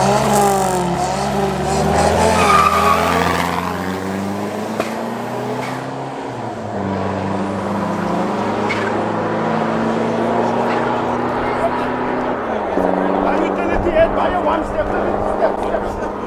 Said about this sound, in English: next up is Hilux D4D against the Chef Bucky